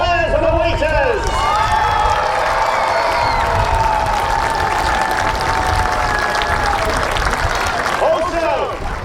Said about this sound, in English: give a huge round of applause to our hard-working squires and the waiters